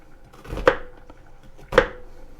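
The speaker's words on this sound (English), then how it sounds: "I'm going to start by mincing a yellow onion." Two sharp knife chops land on a cutting board while mincing a yellow onion, about a second apart, close and crisp with no talking.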